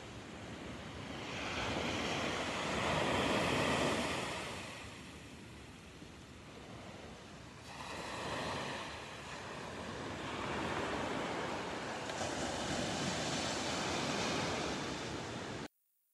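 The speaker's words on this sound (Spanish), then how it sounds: "Así es como se encuentra el mar el día de hoy." Sea waves rolling in at the bay of Barra de Navidad, Jalisco, a steady broad surf wash with swells rising and falling every few seconds, mixed with some wind noise and no voices.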